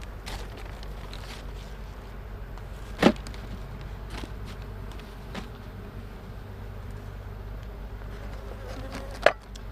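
Honeybees buzz around an opened hive during an outdoor hive check and feeding on a warm day, a steady low hum with two sharp knocks or clunks. No one speaks.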